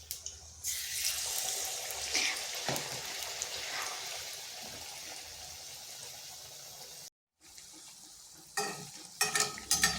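Potato chops sizzle and crackle steadily in hot oil in a wok, a loud continuous hiss that cuts out briefly, then returns with spattering pops.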